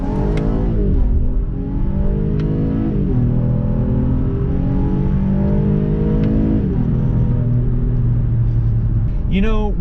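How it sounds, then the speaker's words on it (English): Acura MDX A-Spec SH-AWD V6 revving hard in first gear in manual mode, a deep loud growl climbing repeatedly with rising pitch sweeps and shift dips, heard close up inside the car. "the engine just has this real deep, rich growl that goes all the way up to its red line"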